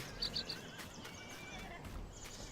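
Horses neighing in a stocked horse paddock in Farming Simulator 19, a quick high whinny near the start followed by soft hoof clip-clops and faint movement, fairly quiet overall.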